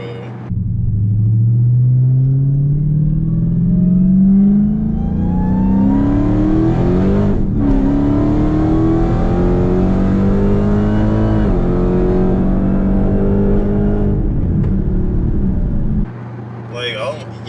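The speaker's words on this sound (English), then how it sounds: "This car, it just keeps pulling, bro." Dodge SRT Hellcat engine pulls hard through the gears, a loud, close, rising roar that climbs in pitch, drops briefly at a shift and climbs again for a long sustained run before cutting off. People talk over it.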